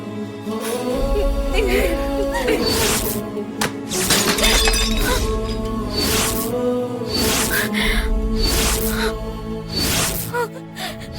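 Glass breaking and shattering in a dramatic TV serial scene, a loud crash followed by repeated sharp smashing bursts over a dense music score, with short gasps amid the din.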